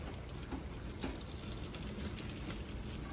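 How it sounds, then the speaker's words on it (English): Boiled potatoes are drained in a home kitchen, a steady rush of water pouring into a sink for a few seconds, fairly quiet and continuous with no talking. "Gotta drain the taters."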